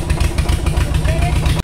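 A boat motor chugs steadily and loudly on the water at a picnic outing, a dense low throb running continuously before cutting off abruptly at the end.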